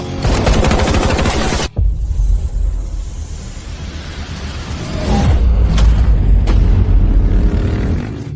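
Gunfire crackles in dense rapid bursts, loud and close, breaks off in a brief gap, then gives way to a softer rumble with a few sharp cracks.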